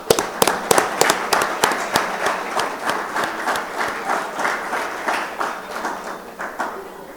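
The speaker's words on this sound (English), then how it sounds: "Round of applause." Applause from an audience at a golf learning event, starting with a few sharp, distinct claps and swelling into a steady round of clapping that slowly tapers off, with a voice faintly underneath.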